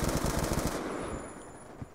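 Rapid automatic gunfire from a machine gun in the PC game Black Ops 2, a dense burst of close, loud shots for under a second, then fading reverberant tail with a single later shot.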